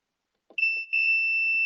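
A sustained high-pitched multimeter continuity beep sounds close and clear after a short silence, with faint soft clicks underneath, while probing ground pins on a WRT54G router board.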